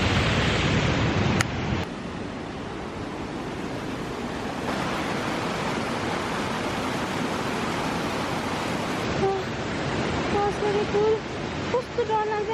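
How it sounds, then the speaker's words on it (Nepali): A large mountain river rushes on the trail to Annapurna Base Camp, giving a dense, steady roar of water throughout, with faint voices and a few brief tonal sounds near the end. "त्यसको बिचमा चाहिँ यति ठुलो खोला छ"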